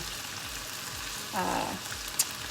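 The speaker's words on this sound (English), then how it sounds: "While this is finishing up searing" Chicken sears in a hot pan with a steady, faint sizzle and crackle throughout, swelling briefly in the middle with a small clink near the end.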